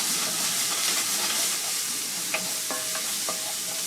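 Chicken piccata browns in a non-stick pan, a dense steady hiss of sizzling fat filling the whole stretch, with a few light clicks of utensils toward the end, close and fairly loud with no speech.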